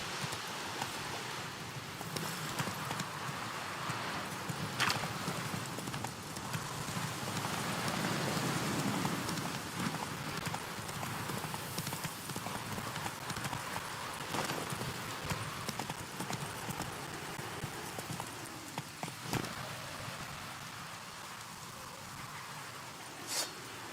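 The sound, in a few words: horse galloping hooves in video game The Witcher 3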